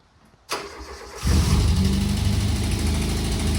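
A roughly 30-year-old Ford Escort's engine turns over and settles into a loud, steady idle close by, with a faint rapid ticking running through the rumble.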